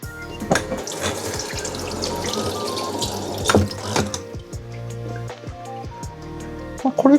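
Water sprays and splashes steadily across a car body during a rinse between wax tests, a continuous hiss with brief drips and pauses near the end.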